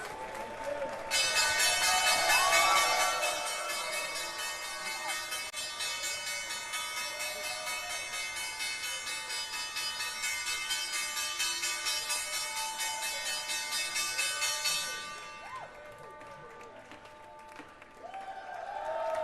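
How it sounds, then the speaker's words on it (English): A stock exchange closing bell rings in a long, continuous metallic clang with applause and a crowd cheering, lasting about fifteen seconds before the ringing stops and faint crowd noise remains. "Nixon's now for the closing bell"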